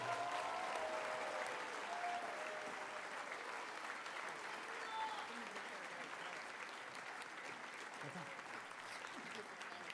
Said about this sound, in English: Let's have a huge round of applause for everybody.